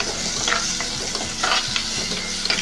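Chopped tomatoes go into a sizzling squid curry, with a steady frying hiss and rhythmic spatula scrapes and taps close by, no one talking.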